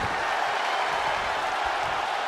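Dense, steady roar of a wrestling arena crowd in WWE 2K20 during a Sasha Banks versus Bayley NXT Women's Championship match, a loud continuous wash of cheering with no clear breaks.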